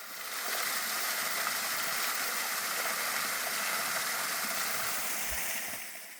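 Guseong waterfall, clear water from Obongsan pouring down into a bowl-shaped cliff basin, a steady broad rushing hiss at moderate distance, even and unbroken, with no voices.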